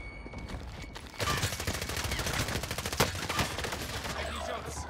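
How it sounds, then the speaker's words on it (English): Gunfire in Call of Duty Warzone Plunder with an AK-47 and AMP63: rapid, dense bursts and single cracks crowd one another throughout, with one especially sharp report in the middle. "Enemy shots!"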